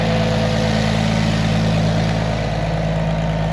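A tractor engine idles steadily and loud throughout, a constant low rumble with no revving and no talk over it.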